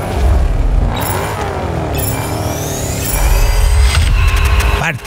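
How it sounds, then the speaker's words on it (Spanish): Car engine revving at the start line of a race in the Test Drive Solar Crown video game, a steady loud drone with rising and falling pitch under game music and effects, ending on a short swell. "Igual puedo revolucionar el auto ahí en la salida."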